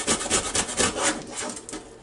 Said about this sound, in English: just take your grater and just grate it.